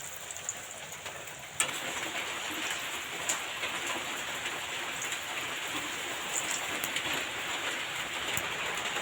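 Heavy rain pours steadily and loudly, a dense continuous hiss with occasional sharper drops, no voices.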